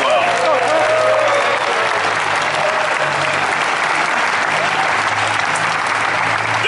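Sustained applause from a crowd gathered in the JetBlue Hangar 81 at JFK for the airline's Tech Ops aircraft technicians, dense and loud clapping throughout with a low hum underneath.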